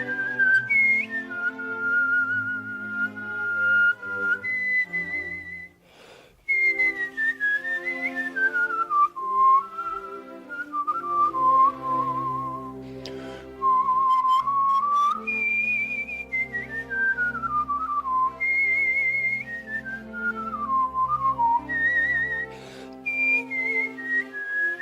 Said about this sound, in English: This is Andante in C, as whistled by Alex Pinto.